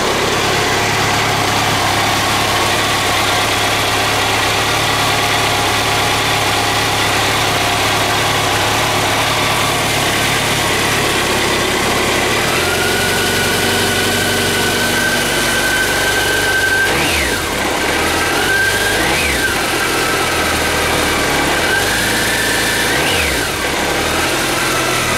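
An 18-year-old BMW K1200RS motorcycle engine idles steadily close by, a continuous mid-pitched rumble that steps up briefly and then settles back around a few short throttle blips, with no talk.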